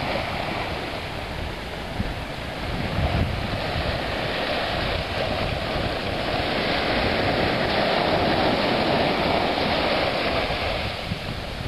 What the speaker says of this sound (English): the noise of those waves are getting loud